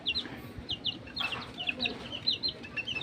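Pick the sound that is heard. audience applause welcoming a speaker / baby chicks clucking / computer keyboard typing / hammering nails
baby chicks clucking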